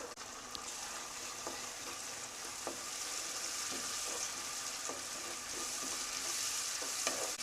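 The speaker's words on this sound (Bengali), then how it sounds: "টমেটোটাকে পেঁয়াজের সঙ্গে 30 সেকেন্ডস মতো ফ্রাই করে নিলাম" Chopped tomato and onions fry in a pan for aloo dum, giving a soft, steady sizzle broken by faint stirring clicks, with no talking.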